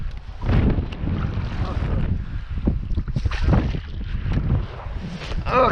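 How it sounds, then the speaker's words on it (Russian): Icy, piercing wind gusts over a small fishing boat out netting fish in cold rain, with rough buffeting rumbles rising and falling and a faint voice in the background. "Ах ты, ветер какой!"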